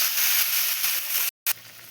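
Water poured into a hot pan of potatoes for a Bengali dish, giving a loud, steady steam hiss that cuts off abruptly for a moment and then resumes more quietly.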